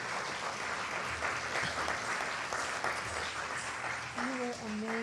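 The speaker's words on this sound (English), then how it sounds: "Give her a big round of applause." Audience applause for a dancer at an Indian cultural celebration: a dense, continuous wash of clapping that fills the clip, with voices and a few sustained musical tones joining near the end.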